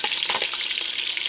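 Onions hitting hot ghee in a pot for chicken biryani set off a bright, dense, close sizzle that holds steady through a brief moment, no speech.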